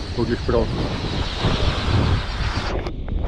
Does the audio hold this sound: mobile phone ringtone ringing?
no